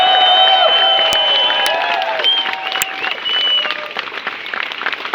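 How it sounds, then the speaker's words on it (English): Loud applause from a crowd at an outdoor Pride event in Dublin, dense clapping mixed with whistles and cheers that gradually thins out. "we should give another big round of applause to Mike"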